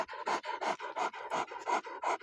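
Dogs on an outing to the hills panting hard and close, a fast steady rhythm of about nine heavy breaths over two seconds.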